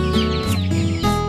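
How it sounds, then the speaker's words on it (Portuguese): A chicken clucks loudly and close, a quick run of harmonic squawks in short bursts, alone without talk. "Eu gosto de galinha."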